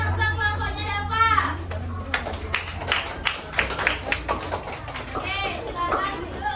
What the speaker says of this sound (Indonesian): berikan tepuk tangan untuk kelompoknya Dava